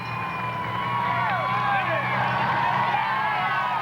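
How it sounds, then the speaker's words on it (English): A big marathon crowd at the 1996 New York City Marathon cheers and whoops loudly and steadily as runners approach. Whistles and shouts rise above a dense roar, with a commentator talking over it. "They are going berserk. The crowd is absolutely alive."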